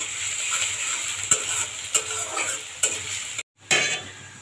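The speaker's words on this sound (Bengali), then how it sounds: "পেঁয়াজ আর রসুনটা ভালো করে ভাজবো।" Onion and garlic frying until brown in a pan for khichuri, a bright steady sizzle broken by rhythmic scrapes of a stirring spoon and a momentary silence near the end.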